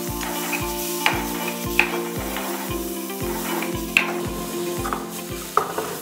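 Salt, black pepper, garlic and tomato fry in a pan, a steady sizzle under a regular pulsing hum, with a few sharp clinks of a utensil against the pan.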